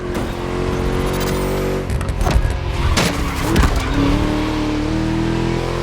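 Throaty V8 engine of a car in the racing game The Crew Motorfest, droning steadily with harmonic revs that rise and dip through gear changes, loud and close, no talking.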